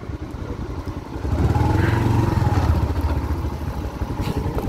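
A motorcycle engine runs nearby at a beach, a steady low chugging rumble that swells louder partway through and holds at that level, with no voices.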